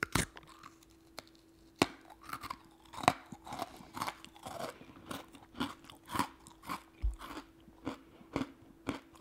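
Crunchy butter cookies are bitten and chewed close to the microphone, with a steady run of sharp crunches and crackles and no talking.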